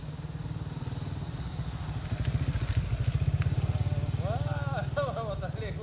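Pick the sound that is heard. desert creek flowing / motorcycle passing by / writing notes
motorcycle passing by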